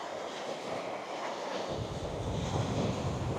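Steady wind roaring across an empty beach on a coastline, a continuous broadband rush with a low gusty rumble that swells stronger partway through, no talking.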